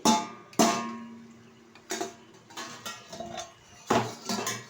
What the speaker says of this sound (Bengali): ঢাকনাটা তুলে দিচ্ছি।